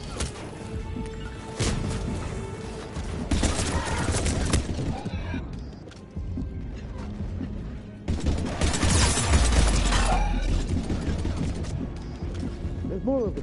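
Gunfire in the video game Mass Effect 3, bursts of shots and impacts in a battle scene, loud and near, under steady combat noise with voices talking over it.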